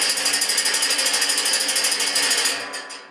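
Ash grate of a homemade gasifier shaken back and forth, a loud rapid metallic rattling in a steady even rhythm that fades out near the end.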